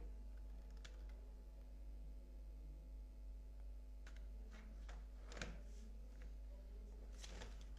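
Faint computer keyboard typing while writing text in Photoshop: a few scattered clicks, then a short burst of keystrokes near the end, quiet against a low steady hum.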